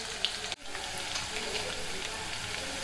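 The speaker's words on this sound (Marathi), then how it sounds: "कांदा मिरची आता फ्राय होत आले" Onion and green chillies fry in a pan, a soft steady sizzle with a brief clatter near the start, and a voice talks faintly over it.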